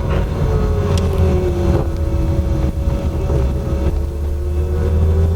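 A Porsche 911 cruising on a quiet new road at around 30–35 mph, with a steady engine drone and tonal whine, road and wind rumble throughout, heard from inside without talk.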